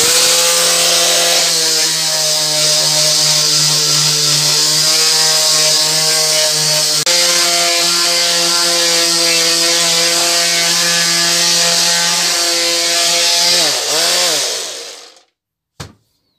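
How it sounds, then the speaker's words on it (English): A belt sander running steadily on a wood panel with resin inlay, a loud continuous motor whine with a constant pitch that holds for about fourteen seconds, then winds down and stops, with one brief knock at the end. "If it's a slow process, I'll just skim over with a belt sander."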